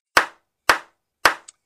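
Three sharp hand claps spaced about half a second apart, each crisp and close with a quick decay, the last followed by a faint tiny tap, in an otherwise silent room.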